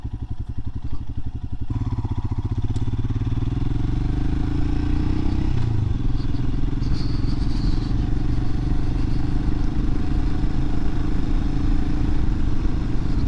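An adventure motorcycle rides along a gravel road, its engine thumping steadily beneath a constant rough crunch and clatter of tyres on loose stones, close and continuous.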